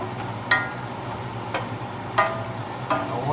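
Vegetables stirred in a frying pan for pasta, a low steady sizzle with four distinct scraping stirs of the spoon at uneven intervals, close and clear with no talking.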